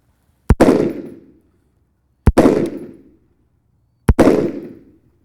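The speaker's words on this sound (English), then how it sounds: "Go ahead, fire 3 for me, Keith." Three sharp rifle shots from iron-sighted rifle fire, evenly spaced nearly two seconds apart, each a loud crack followed by a decaying outdoor echo.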